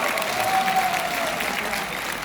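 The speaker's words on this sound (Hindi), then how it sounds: "जोरदार तालियां हो जाए भाई" Steady applause fills the room at a business training seminar in Jaipur, a dense, fairly loud burst of clapping from the audience that continues evenly, with a faint voice underneath.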